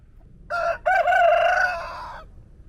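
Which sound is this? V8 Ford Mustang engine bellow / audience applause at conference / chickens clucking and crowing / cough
chickens clucking and crowing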